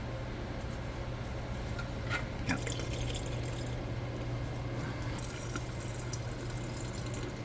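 Kimchi juice poured into fermenting jars: a steady, continuous stream of liquid with a few splashy drips, moderately close, over a constant low background hum.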